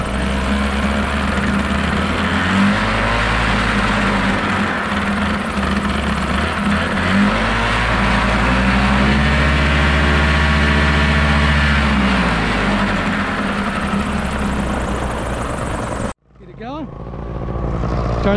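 A paramotor engine runs loud and close right after being started, its drone rising and falling in pitch as it is revved up, then abruptly cutting out near the end.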